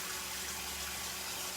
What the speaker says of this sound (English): while that fills, I'm just going to fill it to about 4 inches of water